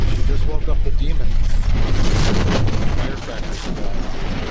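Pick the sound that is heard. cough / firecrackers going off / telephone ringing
firecrackers going off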